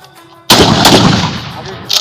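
A single loud gunshot cracks close by during shooting practice after a stretch of near quiet, its blast ringing out and decaying, with a faint second pop at the end.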